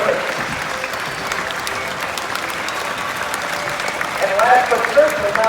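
Crowd applause rises at a monster truck show, steady clapping from a large audience that swells toward the end, with a voice speaking over it.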